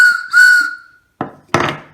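A whistle sounds two short blasts, bright and close, followed by two sharp knocks or clinks.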